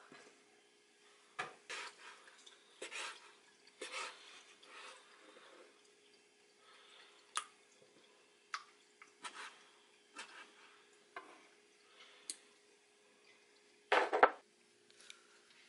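A knife taps and chops on a cutting board as sea squirt is cut into bite-sized pieces, giving irregular sharp knocks spread over a quiet background.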